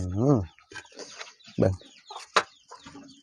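Chickens cluck and a rooster calls in a rural Thai outdoor setting, with several separate loud fowl calls and a voice speaking briefly between them.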